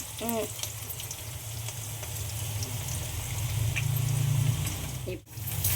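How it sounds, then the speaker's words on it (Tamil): Green chilli seeds crackle as they fry in oil with dal, a steady close sizzle with scattered pops and small stirring sounds throughout. "அந்த பச்சை மிளகாவோட விதை தான் வெடிக்குது வெடிக்குதுமா"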